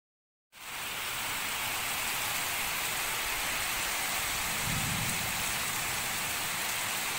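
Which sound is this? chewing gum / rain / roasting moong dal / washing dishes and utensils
rain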